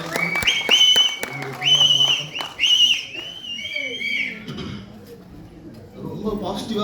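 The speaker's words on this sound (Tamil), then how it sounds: "கை தட்டி விசில் அடிச்சு" At a Tamil movie audio launch event, the audience claps and whistles loudly. Several sharp whistle blasts sound in quick succession over scattered applause and crowd noise, and someone speaks through the cheering.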